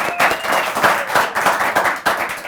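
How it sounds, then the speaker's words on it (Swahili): A studio audience claps to welcome guest Coach Roy Okonji on a talk show, an uneven burst of close, fairly loud applause from a small crowd with individual claps audible. "Wapi makofi yake?"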